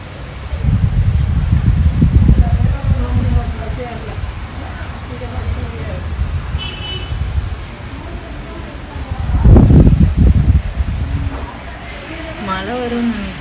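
Strong wind gusts rustle the trees outdoors ahead of rain, rumbling in swelling surges across the microphone while a person talks over it.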